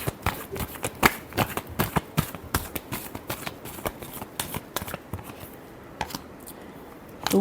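Tarot cards are shuffled steadily by hand at close range, a dense run of crisp riffling slaps and sharp card snaps repeating in a quick uneven rhythm.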